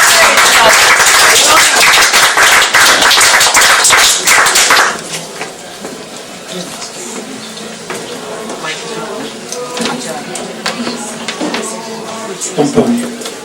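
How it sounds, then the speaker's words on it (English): Audience at an open mic night in a Limerick pub claps for a performer, dense applause for about five seconds before it stops and a voice begins talking. "Round of applause for John"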